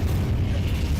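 Incendio, a fire spell, cast in the video game Hogwarts Legacy: a brief, loud, steady whooshing roar, close and continuous through the whole moment.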